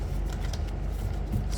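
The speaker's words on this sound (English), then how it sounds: "I'll just shuffle and see." Tarot cards being shuffled by hand, a steady soft riffling and papery flutter running continuously at close range, with no talking.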